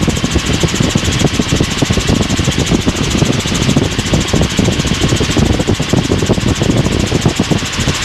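A helicopter engine drones steadily and loudly in flight over Cape Canaveral, a dense continuous rumble with rapid throbbing pulses and no voices.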